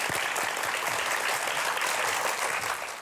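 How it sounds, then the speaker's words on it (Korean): A studio audience applauds to welcome a guest CEO onto a Korean TV talk show stage, a steady, dense wash of many hands clapping at a loud, even level throughout. "큰 박수로 맞아주세요"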